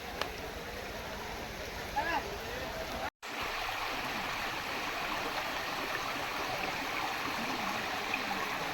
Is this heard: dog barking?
no